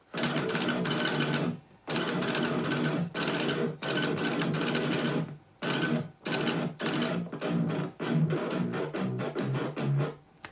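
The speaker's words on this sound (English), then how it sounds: "So real tight palm muting." A chugging, tightly palm-muted electric guitar plays a deathcore breakdown riff in dense bursts with short breaks, ending in quicker choppy stabs.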